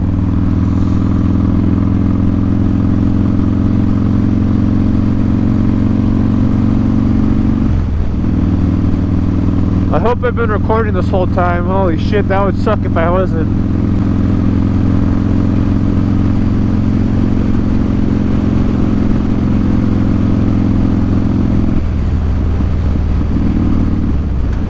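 A motorcycle ridden at night on a cold road, its engine droning loud and steady with a strong low hum and wind rush, pitch shifting briefly as the rider changes speed, while someone talks over it.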